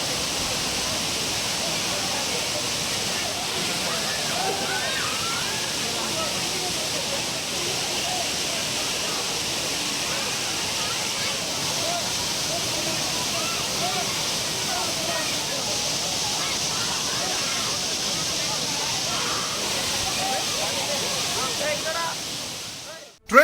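A waterfall where tourists bathe roars as a steady, dense wash of water noise, loud and unbroken throughout, with a voice talking over it.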